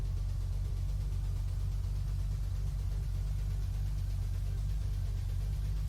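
A stolen car in Unturned creeps along slowly, its engine giving a steady, unbroken low rumble and drone that stays close and even throughout with no voices.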